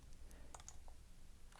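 Soft clicks of typing on a computer keyboard while entering environment variables into a Windows Start menu, a few sparse, quiet keystrokes spaced irregularly over a faint background hum.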